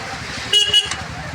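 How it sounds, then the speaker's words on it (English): Car horns honk in a stalled traffic jam on Ranka Road in India, two short toots close together over steady engine and road rumble. "just look at the traffic jam."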